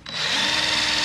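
A power drill whirs steadily at high speed after a brief spin-up while drilling a pilot hole on a boat, loud and close, with no voices.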